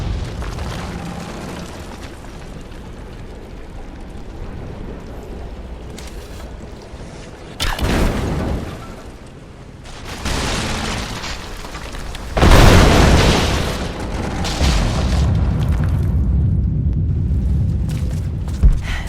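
Greek fire vessels explode in Rise of the Tomb Raider, with two loud, broad booming bursts a few seconds apart over a rumbling game background.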